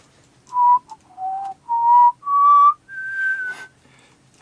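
A person whistles a short melody of several clear, separate notes, rising in pitch toward a longer final tone.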